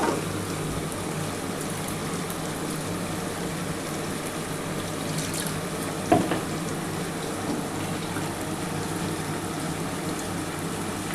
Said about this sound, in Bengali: এর মধ্যে সামান্য অল্প একটু জল দিয়ে ঢেলে দিচ্ছি।